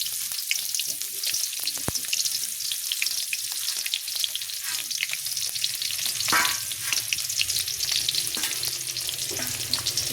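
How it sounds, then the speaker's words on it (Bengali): Onions sizzling in oil in a pan as the base for a pangas fish curry, a steady close hiss of frying with occasional stirring scrapes and a brief knock. "পেঁয়াজটা আমি ভেজে নেব"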